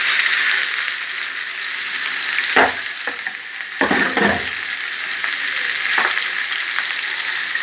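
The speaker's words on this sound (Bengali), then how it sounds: "পেঁয়াজগুলো আমি ছেড়ে দিয়েছি। এবার পেঁয়াজগুলো আমার একটু ভাজা হবে।" Chopped onions sizzle and fry steadily in hot oil mixed with ghee, a loud, continuous crackling hiss with a few brief clattering stirs of a utensil in the pan.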